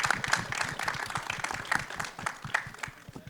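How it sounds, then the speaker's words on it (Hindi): An audience at a film trailer launch event gives loud, dense applause, a steady roar of many hands clapping close by without break. "जोरदार तालियां बजाओ, थोड़ी और बजाओ, बजाते रहो."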